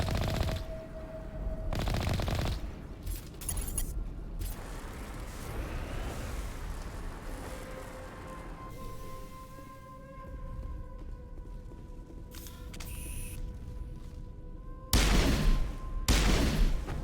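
Repeated pistol fire from the Stiletto in the video game Mass Effect, sharp loud bursts in quick volleys over a steady game soundscape with tonal hums, heaviest at the start and end.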